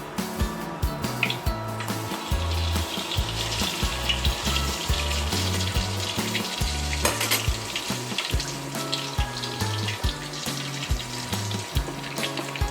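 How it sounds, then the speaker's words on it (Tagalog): A pork leg deep-frying in boiling oil for crispy pata, with a loud, continuous crackling sizzle and bursts of spattering that stay up close and fill the whole stretch. "Ngayon, ilalagay na po natin siya sa ating kumukulong mantika."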